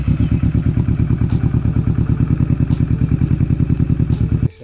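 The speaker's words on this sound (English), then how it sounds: "start the bike, let it run for a bit so you can pump the oil into the oil filter" Kawasaki Vulcan S motorcycle engine idling after an oil service, a loud, close, steady rhythmic thumping pulse that runs evenly for several seconds before cutting off abruptly at the end.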